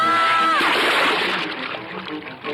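A person is thrown into water in a Tamil film scene: a sharp splash bursts out, followed by sloshing and churning water that fades, with a shout and a voice briefly over it.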